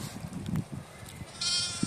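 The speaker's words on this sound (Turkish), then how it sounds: "Bak melliyor bir tanesi." A sheep bleats nearby in short wavering calls, with other farm animals and soft rustling in the background.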